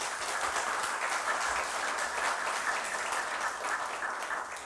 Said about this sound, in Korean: 우리 아버님께 감사 박수 한번 드립시다.